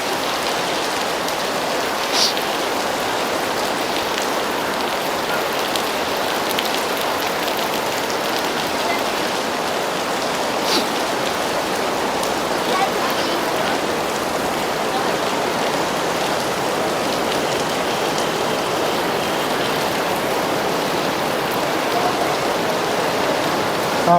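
Heavy rain pours steadily outdoors, a dense, loud, unbroken hiss of drops on surfaces lasting throughout, with no voices.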